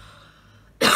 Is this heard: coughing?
yes